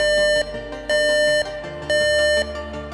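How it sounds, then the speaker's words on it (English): Alarm from a PAL Robotics mobile robot base in the SESAME project: loud, steady electronic tones pulse in three evenly spaced half-second bursts, close and alone with no talk. "the base automatically halts its operation and initiates an alarm sound"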